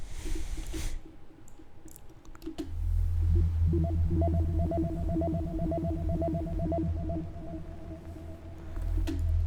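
A Serum software synthesizer plays a sustained tone through an echo effect, with repeating harmonic notes ringing on over a deep bass layer for several seconds.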